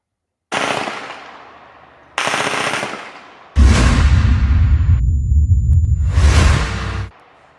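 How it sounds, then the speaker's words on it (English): Machine-gun fire on a battlefield in Gaza: three loud, close bursts of rapid automatic shots, the last one long and booming with heavy low rumble and echo, with no talk. "There's going to be audio of gunfire in this track because I left the audio in."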